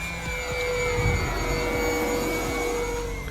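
An FMS Cessna 182 Skylane 1500mm electric RC model plane flies aerobatic passes, giving a steady, continuous motor and propeller whine with no talking.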